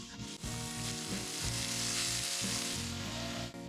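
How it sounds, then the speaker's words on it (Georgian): Loud, continuous sizzling of pork belly frying in a hot pan, with occasional scraping of a utensil against the surface. "ვაცხელებთ ტაფას და ვიწყებთ შეწვას."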